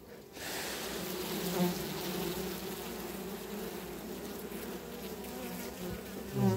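Bees buzzing loudly and steadily around the hive of a weak swarm that has been strengthened, a dense continuous drone close by with no talk.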